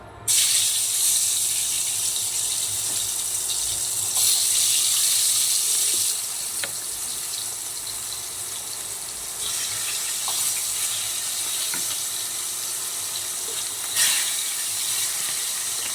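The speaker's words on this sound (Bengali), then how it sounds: "তেল গরম হয়ে গেছে, মাছগুলো দিয়ে দেবো তেলের মধ্যে" Fish fry in hot oil with a loud, steady hiss and sizzle close by, broken by a few small pops.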